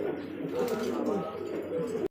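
Rajgolla fancy pigeons coo softly and steadily at close range, a low rolling murmur filling the short stretch before it cuts off.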